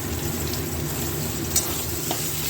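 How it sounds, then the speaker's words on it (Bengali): Onions frying lightly in oil in a pan, a steady, dense sizzle continuing without pause, with a faint tick or two. "এবার দিয়ে দেবো তাতে পেঁয়াজটাও খুব বেশি ভাজবো না"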